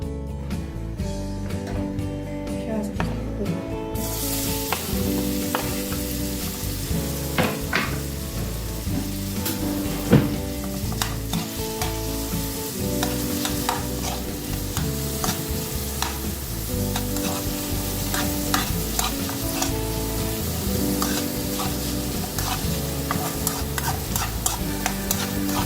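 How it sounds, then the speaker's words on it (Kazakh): Onion frying in heated oil in a frying pan while being stirred, with a constant sizzle and repeated scraping strokes of the spatula at a close, steady level, and no talking. "сковородкамызға майымызды құйып, жақсылап қыздырып, пиязымызды қызарғанша қуырып аламыз"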